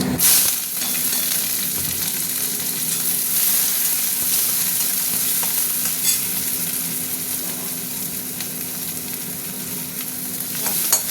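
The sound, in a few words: onions frying in oil with dried chilli and bay leaf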